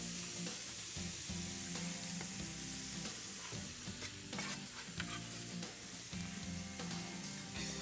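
Garlic and parsley frying in a pan with a steady, dense sizzle throughout, close and moderately loud, with occasional stirring scrapes mixed in.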